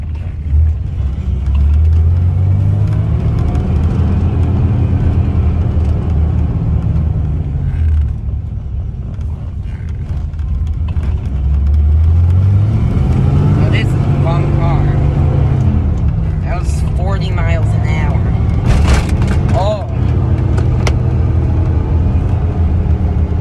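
A 1981 Corvette C3 engine heard from inside the car while driving, a loud low rumble rising and falling as the throttle is pushed hard through repeated acceleration sweeps, with someone talking over the cabin noise.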